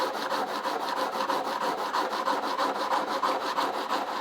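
A metal blade being sharpened: rhythmic back-and-forth scraping strokes, close and steady, about four strokes per second with no talk.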